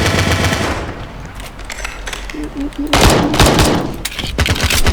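Rapid pistol fire in the Roblox video game, loud repeated shots in bursts at the start and again near the end, with a quieter stretch between and a few short mechanical clicks.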